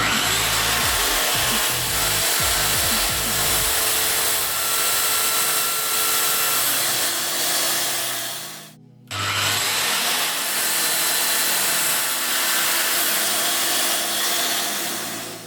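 A hand saw cuts through wood along a 45-degree line in steady back-and-forth strokes, loud and close. There is a brief pause near the end before the sawing resumes.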